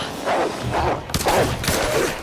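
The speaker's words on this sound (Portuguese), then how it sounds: "Opa, som de tiro aí na frente." Several bursts of gunfire in the video game Tomb Raider (2013) crack out in quick succession, somewhat distant and echoing, with no talking.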